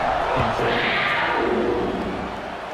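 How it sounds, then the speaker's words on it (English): Stadium crowd noise from the College Football 26 video game, a Kentucky Wildcats dynasty game against Mississippi State: a loud, close, rumbling buzz of massed voices that swells and then slowly fades, with no clear speech. "this crowd is buzzing after that last score"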